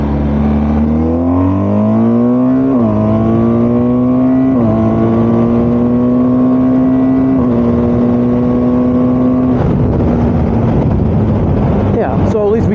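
A BMW R1250GS motorcycle accelerating hard on a busy road, its engine note climbing steadily through several gear changes, loud and close, with rushing wind noise throughout.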